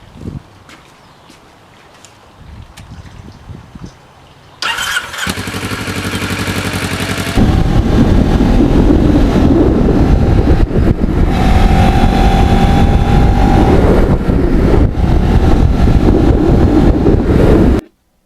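A black and gold restored Kawasaki Ninja motorcycle fires up after quiet rustling, then idles and runs loudly and steadily close to the microphone, with a brief rev partway through and wind buffeting, cutting off abruptly at the end.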